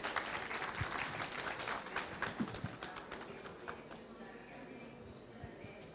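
Audience applause at a closing ceremony of the FIDAK 2025 fair, dense steady clapping from a crowd that slowly thins and fades over several seconds, with faint voices mixed in.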